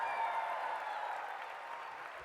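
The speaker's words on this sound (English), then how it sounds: "And the crowd goes wild." A crowd at a science festival show applauds in a steady wash of clapping, fairly faint and distant, fading slightly toward the end.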